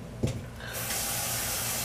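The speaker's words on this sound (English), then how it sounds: "I'm about to pour that shit out." Liquid poured out into a sink, a brief splash followed by a steady, close hissing rush of running water, with no talking.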